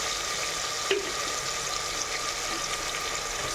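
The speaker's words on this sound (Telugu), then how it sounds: "సో ఇప్పుడు ఆయిల్ పోసుకొని తగినంత జీలకర్ర, పప్పు" Cumin seeds and dal fry in hot oil in a pan, a loud, steady close sizzle with a faint tap partway through.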